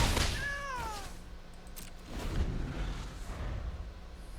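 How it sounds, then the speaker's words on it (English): A cat pet meows in the Magic: The Gathering Arena video game, one clear falling meow near the start over a steady background game-music bed, followed by softer sounds. "I like the little new cat. I have that pet for my cat deck."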